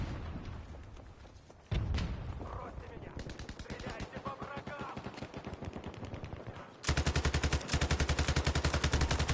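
Automatic gunfire from a weapon set to full-auto in a shooter video game, rapid bursts of shots that grow into a loud, sustained stream of fire in the final seconds.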